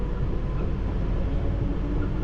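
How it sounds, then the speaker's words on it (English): A London Underground Piccadilly line train labouring to pick up speed, a steady loud rumble of wheels and motors inside the carriage with no talking. "this train really is struggling"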